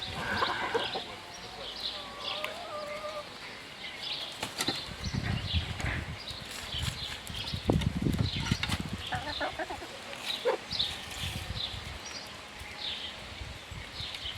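Hens cluck softly and intermittently nearby, scratching at the ground with their feet amid rustling and occasional louder thumps.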